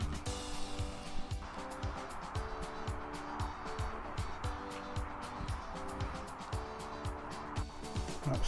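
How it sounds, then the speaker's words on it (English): A car with a modified exhaust pipe drones from a distance beside farmland, a low rumbling engine note that holds steady and faint for over eight seconds with no one talking. "So I suspect it's got a modified exhaust pipe."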